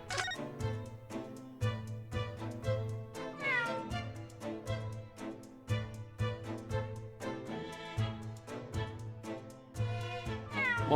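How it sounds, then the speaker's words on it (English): A cat meows in the video game Great Ace Attorney 2, heard over steady looping game music with a repeating bass pattern, the meow not clearly separated from the busy score. "That was a cheeky little meow, Wagahai."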